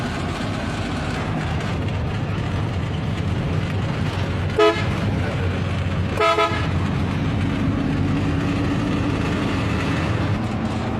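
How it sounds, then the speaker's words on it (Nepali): Two short car horn honks, a few seconds apart, cut through the steady rumble of the moving car at Manahari Bazaar, Nepal. "हर्न बजाउँदै"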